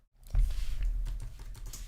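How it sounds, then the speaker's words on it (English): Typing on a computer keyboard while entering values during After Effects editing: a steady run of quick, close key taps and clicks with no talking. "I'm just basically typing in the value that I pasted in from the star."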